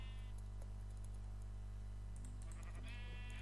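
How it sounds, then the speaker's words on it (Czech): Sheep bleating in the Minecraft video game, a couple of short nasal bleats near the start and end over a steady low background hum, with faint keyboard tapping in between. "Ovce pitomí."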